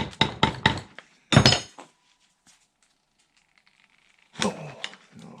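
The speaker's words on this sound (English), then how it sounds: "I'll give it another little tap." A screwdriver taps on a carburettor mixing-chamber part of a Stickney 7HP stationary hit-and-miss engine, with a quick series of sharp metallic clinks, a short louder cluster, silence, then one more tap.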